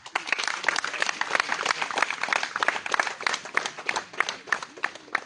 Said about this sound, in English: Let us just applaud our excellence.